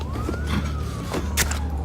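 A police siren in the Batman Telltale video game sweeps steadily up and down under tense game music, with a few brief sharp noise bursts near the end.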